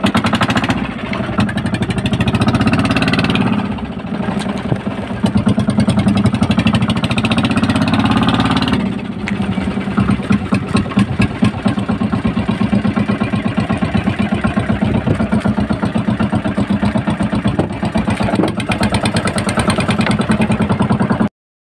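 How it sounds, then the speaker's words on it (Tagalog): A fishing boat's motor sputters to life and then runs loud and steady, chugging close by with a rapid, rough rhythm. "Nagbibira na si kadebistri ko ng makina."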